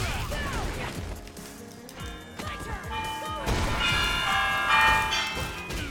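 Bells ringing inside the Street Fighter V fighting game, a bright metallic clanging layered over crashing hit effects and game music, with a commentator talking over the action.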